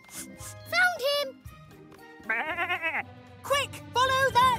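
Cartoon sheep bleating, several wavering high bleats in short bursts mixed with a child-like voice and light jingling, close and clear against a soft backing.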